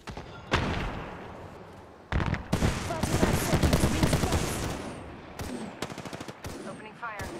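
Gunfire in a battle royale video game: bursts of rapid automatic shots with loud sharp reports, breaking off between volleys, close and prominent in the game mix, with a few short single shots near the end.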